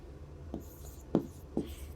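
Marker or chalk writing on a board during a biology lesson: three short scratchy strokes, close and faint, with quiet pauses between them and no talk over them.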